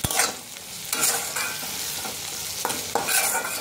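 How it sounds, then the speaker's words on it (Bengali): Chopped onion and tomato with a little salt fry in a pan, a steady broadband sizzle broken by several scraping stirs of a spatula at irregular intervals, close and fairly loud with no talking. "পেঁয়াজটার সাথে টমেটোটা ভালো করে ভেজে নিচ্ছি।"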